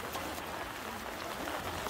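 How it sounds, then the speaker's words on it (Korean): Heavy rain pours down on the road to Sammaksa temple on Buddha's Birthday, a steady, fairly faint broadband hiss of drops with no break and no voices. "비 오는 거 보세요."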